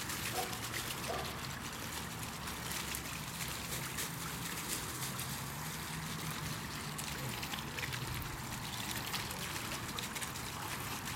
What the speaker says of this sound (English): I've got my hose just running wide open.